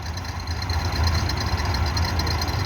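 Massey Ferguson 360 and 375 tractors pull a harvester out of a paddy field, a steady low diesel rumble with a mid-range throb running continuously, close and fairly loud, with no talk.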